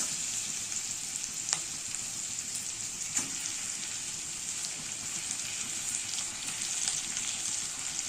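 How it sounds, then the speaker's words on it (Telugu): Onions frying in a pan give off a continuous bright sizzle, close and steady, with a couple of faint clicks from stirring and no voices. "ఆనియన్స్ బాగా ఫ్రై చేసుకొని దీంట్లో కొంచెం టొమాటోస్ వేసుకోవాలి."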